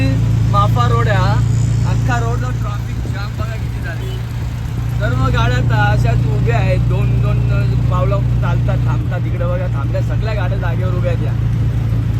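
Road traffic in a jam as heard from inside an auto rickshaw: a constant low motor rumble with a busy wash of surrounding vehicles, under someone talking almost throughout.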